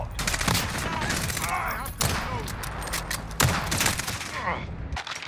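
Dense gunfire from a team deathmatch video game, with rapid overlapping bursts and occasional sharper single shots running the whole time, loud and continuous, with voices partly mixed in underneath.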